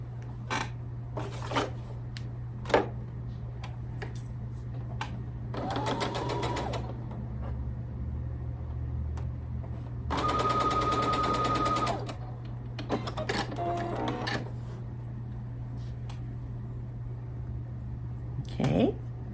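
A sewing machine stitches fabric in several separate bursts of rapid whirring, with quiet handling noises and some talk between the runs.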